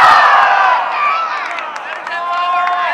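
A crowd of spectators cheers and shouts with excited, overlapping voices at a women's pickleball major final in Salt Lake City, loud and close at first, then easing slightly while staying continuous.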